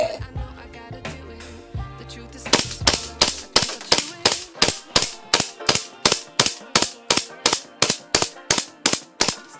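A Jag Precision TTI Pit Viper airsoft gas blowback pistol fires BBs in a long, steady string of sharp cracks, each shot close and punchy and evenly spaced, after some softer mechanical clatter at the start.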